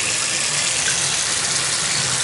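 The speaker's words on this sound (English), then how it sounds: "Good water pressure in this building" Water gushes hard and steady from a sink faucet in an apartment building, a loud continuous rush with strong pressure that holds without a break from start to finish.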